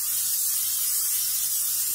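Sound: cooking spray greasing a cake tray

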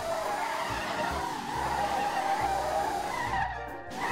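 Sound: tires skidding as a 4000HP Volkswagen Beetle drifts, video game

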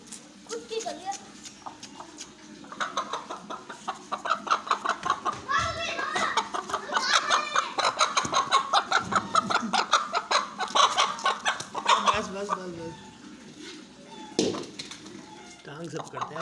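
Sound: hen clucking

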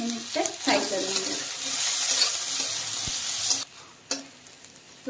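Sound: frying potatoes, peas and carrots in a kadai

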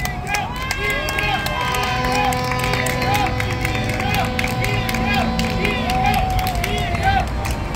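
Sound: crowd applause

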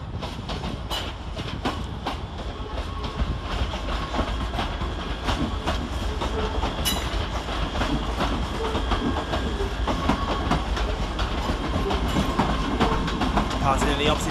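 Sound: ScotRail class 385 electric train at Glasgow Central station

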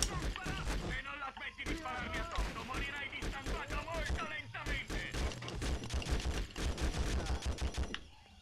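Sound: gunfire in the video game Conflict Vietnam

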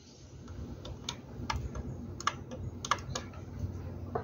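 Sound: pen pressing security camera reset button

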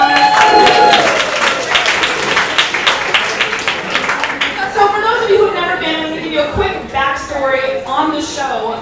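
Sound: audience applause

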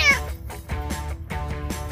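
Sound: cat meowing

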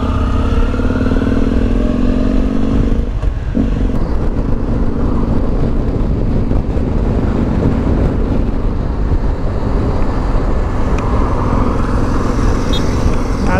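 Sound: Harley-Davidson XR1200X motorcycle riding

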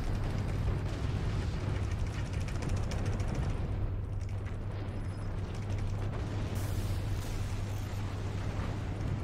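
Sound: mortars firing in the video game Forts

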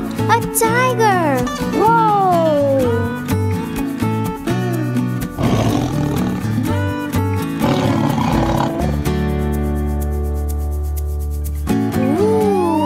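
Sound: tiger roaring

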